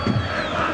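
A home crowd murmurs and roars in a football stadium for Pisa, a brief, dense wash of many voices.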